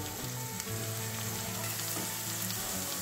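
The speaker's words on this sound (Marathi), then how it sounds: "जवळपास 3 हिरव्या मिरच्या मी बारीक कट केलेल्या आहेत। अशा प्रकारे आपल्याला परतवून घ्यायचे आहेत यांना।" Finely chopped green chillies and onion sautéing in a hot pan, a dense continuous sizzle and crackle, close and steady with no voices.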